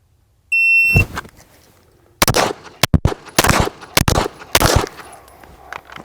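A shooter fires pistol shots during a timed 20-yard drill with a six-second par time, opening with a shot-timer beep. A string of sharp, loud reports follows in quick, uneven succession, close by and outdoors.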